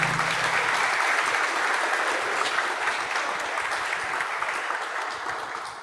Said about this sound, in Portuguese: Uma salva de palmas para os músicos da Camerata.